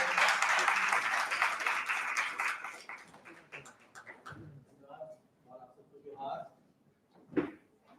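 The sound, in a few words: audience applause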